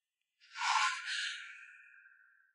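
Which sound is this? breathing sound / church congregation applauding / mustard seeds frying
breathing sound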